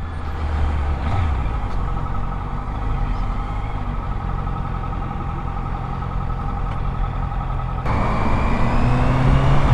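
Heavy road traffic rumbles steadily throughout, with idling truck and bus engines close by, a continuous loud low drone that swells slightly near the end as a vehicle moves off.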